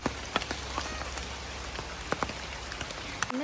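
Rain falls steadily outdoors at a village home, a soft even patter with scattered sharper drops, fairly quiet and continuous, with no voices.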